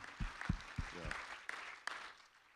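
Congregation at a church town hall meeting giving brief applause, with a few sharp claps at first and then light scattered clapping that fades, fairly quiet and distant-sounding.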